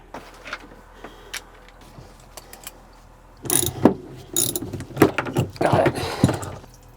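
Two wrenches work a brass fitting loose on a diesel engine, giving scattered metallic clicks and scraping clanks that grow busier and louder partway through, close by with little talk.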